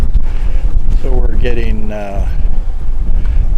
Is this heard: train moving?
no